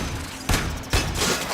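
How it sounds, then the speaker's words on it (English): Weapon fire aimed at a hive in the video game Warframe: two loud, sharp blasts about half a second apart over a dense, steady background of game sound. "Destroy it with weapon fire."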